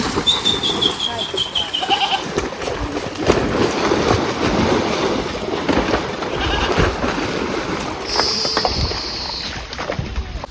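Sheep and a lamb bleat at a water's edge where the flock is taken for washing after shearing. A few high, wavering calls rise over steady outdoor noise and indistinct background voices.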